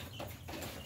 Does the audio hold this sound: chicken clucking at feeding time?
yes